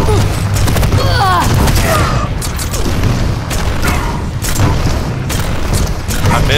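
Railgun shots and rocket explosions in an arena-style video game, a continuous barrage of booms and whooshing blasts at high volume, with a brief spoken exclamation over the top.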